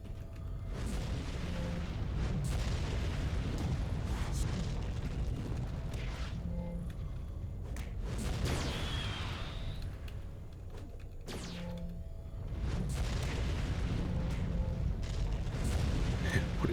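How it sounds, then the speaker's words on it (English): Rocket launcher blasts in the City of Heroes video game, heavy booming explosions that bang repeatedly through a dense, continuous rumble of combat noise at steady loudness. "What is that? A rocket launcher?"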